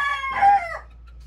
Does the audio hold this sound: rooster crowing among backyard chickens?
yes